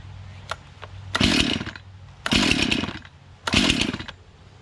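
A repaired Stihl MS291 chainsaw revs in three loud, evenly spaced bursts, each about a second long, over a steady idle and with a few quick blips of the throttle between them.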